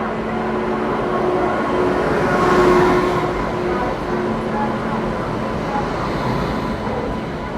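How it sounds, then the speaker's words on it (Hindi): The LTT Sitapur Express arrives at a station platform behind a WAP-7 electric locomotive, a steady loud rumble and rolling clatter swelling as it approaches, with a faint horn-like tone, while someone speaks over it. "7 नंबर पे LTT सीतापुर आ रही है। उसका अराइवल मैं आपको दिखाता हूँ।"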